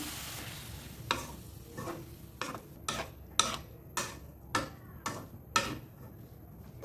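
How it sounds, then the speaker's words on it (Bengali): Snake gourd cooks with egg in a pan, a soft sizzle running underneath a string of regular clicks and scrapes from stirring, close and fairly quiet. "এই জালটাতে চিচিঙ্গাটা সুন্দরভাবে ভাজি হয়ে যাবে"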